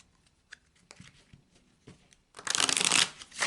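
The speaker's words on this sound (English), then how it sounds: "I'm going to take a few moments to shuffle the deck" A deck of tarot cards being shuffled on a table: a few soft taps and riffles at first, then a loud, dense burst of close shuffling near the end.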